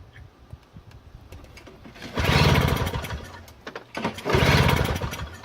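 A Toro snowblower engine cranks in two loud bursts of about a second and a half each, each with a rough, rapid chugging churn. Quieter mechanical clatter fills the gaps, and the engine does not catch.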